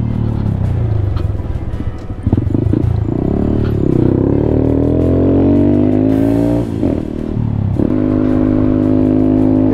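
A Honda Grom motorcycle engine running hesitantly after refuelling, loud and close, with uneven revving that climbs, stutters and drops back, rumbling steadily between revs.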